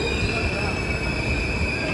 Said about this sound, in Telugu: స్టేషన్లో స్లో అయింది.